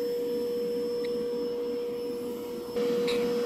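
Dreame X50 Ultra robot vacuum cleaner mopping a corridor, giving a steady close motor hum with a constant tonal whine and brushing noise throughout, slightly rising near the end.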